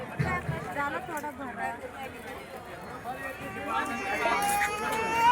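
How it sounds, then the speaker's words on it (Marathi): A crowd of customers at a weekly Diwali market makes a steady babble of overlapping voices and bustle, with one voice speaking close up over the background chatter. "साडेआठ वाजल्या तरी ग्राहकांची गर्दी ही बाजारामध्ये आहे"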